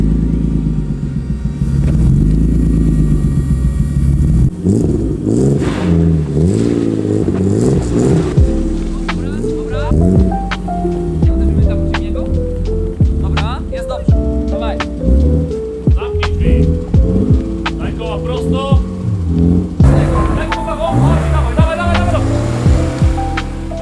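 A BMW E30 car is driven out of a garage at night, its engine rumbling and revving loudly and steadily throughout, with people talking over it.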